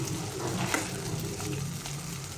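Cluster beans frying in oil in a pan over a high flame, giving a steady, close sizzle with faint crackles and no talking.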